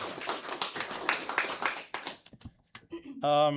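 Audience at a Cuivre River cooperative annual meeting applauding board candidates, a dense burst of clapping for about two seconds that thins into scattered claps before a voice speaks.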